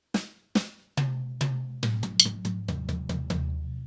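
A quick drum fill moves down the kit: two sharp snare hits, then tom strokes that grow faster and deeper, ringing out close and clear.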